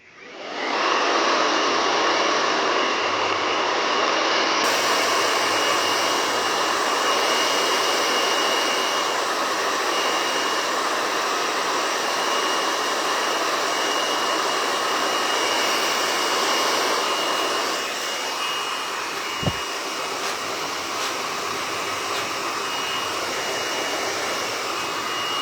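A hair dryer runs steadily and loudly throughout while drying hair during a short layered pixie haircut, a continuous blowing whir that dips slightly in level toward the end.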